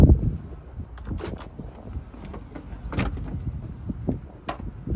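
Power door locks on a 2015 Toyota Prius C unlocking inside the cabin, a few short mechanical clicks and thunks over quiet interior rumble.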